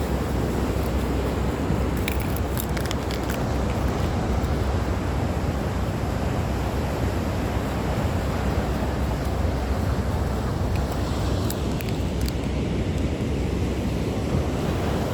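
Ocean surf rolls steadily on a morning beach walk, with continuous wave wash and wind buffeting the microphone throughout, no voices present.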